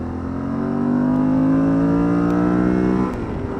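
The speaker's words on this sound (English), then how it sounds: "when you wind it up, it sounds just like a TDM" Yamaha XTZ 1200 motorcycle engine winding up under acceleration on a ride, a loud, steadily rising rev that drops off near the end.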